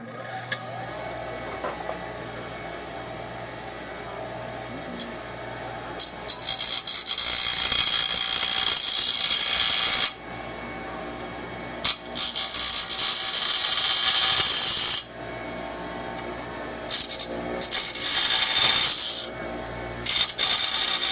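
An angle grinder cuts away overly thick weld material on a radiator in a shop, running in loud sustained bursts of several seconds each, separated by short pauses and quieter stretches.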